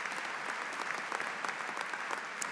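Steady applause from a commencement ceremony audience at a university, dense and continuous clapping filling a large hall, even in level with no pauses.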